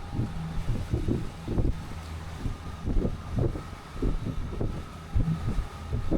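A small boat thumps rhythmically over swells larger than itself while strong wind buffets the microphone, the hull and engine rumbling close by.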